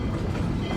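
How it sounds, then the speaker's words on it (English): A passenger train on a mine tour line rumbles and clacks steadily along the rails as it slows for a quick stop at a tour platform, a continuous loud low roar with no voices. "Now our train is slowing down, and that's because we're going to be making a quick station stop"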